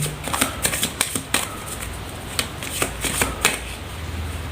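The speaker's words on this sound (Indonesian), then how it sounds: "Saya shuffle terlebih dahulu" A deck of tarot cards is shuffled by hand up close, giving quick riffling bursts and sharp flutters in irregular clusters separated by brief pauses, with no voice over it.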